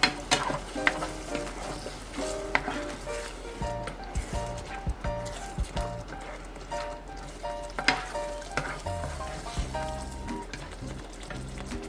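A creamy pasta sauce mixture in a pan, with cream just added, sizzles and bubbles steadily while being stirred, with occasional utensil scrapes and clinks against the pan throughout.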